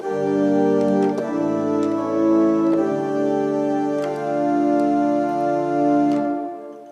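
A slow hymn played with suspension chords, sustained chords with held notes resolving one after another; steady, full and unhurried, no voices.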